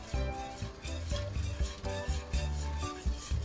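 Eggnog mixture stirred in a pot with a spoon, soft scraping and clinking in a steady rhythm over a low simmer-like hiss, close and quiet, with no talk.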